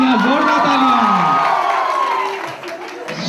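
Audience at a wedding sangeet cheers and claps, a broad crowd roar with whoops that swells at first and eases off, while a host's voice carries over it.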